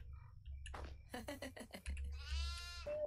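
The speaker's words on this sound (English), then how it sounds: "Whenever the goat cries, it does something to me." Goat bleating in the Devour farmhouse horror game, a series of wavering cries then one long drawn-out bleat over a low rumbling game backdrop, close and fairly loud.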